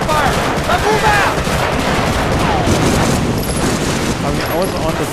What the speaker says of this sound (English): I'll give us a covering fire.